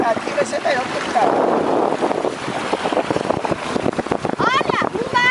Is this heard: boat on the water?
yes